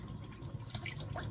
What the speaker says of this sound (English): I'm rinsing this off with cold water.